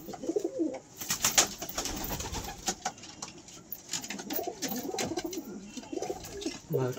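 Soft Giriraj pigeon coos repeat through the clip amid a busy, rustling background, with occasional sharper chirps and clatter nearby.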